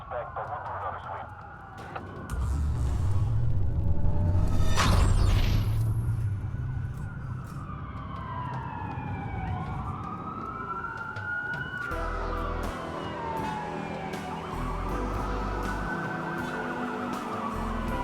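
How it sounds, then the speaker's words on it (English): Police car sirens in the video game Watch Dogs wail and rise and fall over a low engine-like rumble, several overlapping tones sweeping steadily through the scene, with game voices talking over them. "A lot of sirens for a blackout."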